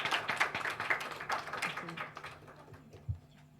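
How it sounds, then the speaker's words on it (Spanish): Clapping from an audience at a university diploma ceremony for a student receiving a diploma, a moderate patter of hands for about two seconds that thins out into scattered claps with light room noise. "Un aplauso a Ángel."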